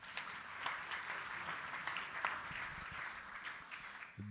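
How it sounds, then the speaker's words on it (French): Applause from the audience at a supply chain directors' awards gala in 2023 fills the room, a fairly quiet but continuous wash of many hands that holds steady for around four seconds, with no talking. "Merci Jean-Philippe, merci Jérôme, on peut les applaudir, merci."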